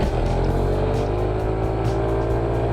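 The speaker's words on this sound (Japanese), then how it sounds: "40キロでね もう吹き上がっちゃうんですよ。" Close, steady engine drone of a Suzuki Let's 4 scooter being ridden, revving high at around 40 km/h with a fault causing abnormal noise and poor top speed; a continuous, even hum with no talking.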